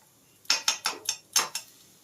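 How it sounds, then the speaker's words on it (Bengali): Fresh ginger being grated for a spiced lentil kachori filling gives six short scraping strokes in quick succession, close and crisp, with no talking. "ওই আদাটা গ্রেট করে দিয়ে দেবো।"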